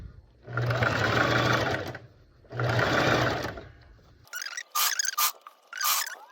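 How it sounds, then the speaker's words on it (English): A sewing machine stitches a circle skirt fabric seam in two long steady whirring runs, then several short stop-start bursts, close and clear. "I'm using my presser foot for the edge of the fabric. My presser foot is on the edge of the fabric."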